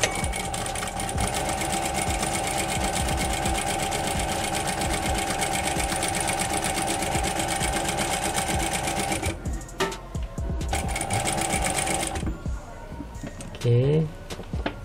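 A sewing machine stitches steadily after its upper thread tension is tightened, a close, loud, fast mechanical whir that stops and restarts near the end, with a voice speaking over it.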